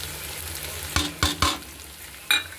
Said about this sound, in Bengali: নুন, হলুদ, শুকনো লঙ্কার গুঁড়ো, এগুলোকে আমি ভালো করে আবার মিশিয়ে নেব। ভালো করে একটু ভেজে নেব।